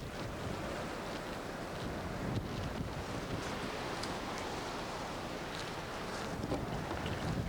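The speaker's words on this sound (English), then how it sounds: "It is so windy I can hardly stand up." Strong wind roars across the beach at the Sanibel lighthouse on Florida's Sanibel Island, a steady, loud buffeting gust noise that batters the microphone continuously, mixed with the wash of surf, with no voices.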